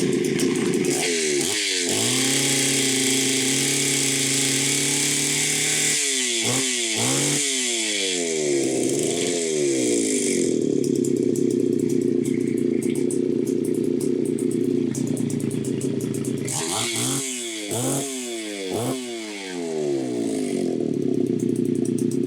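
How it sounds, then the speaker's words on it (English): Homelite Super XL-925 chainsaw on a test run, its two-stroke engine droning loud and close, with repeated sharp revs rising and falling between stretches of steady running. "Let's do a little test run on Jeremiah's 925 here"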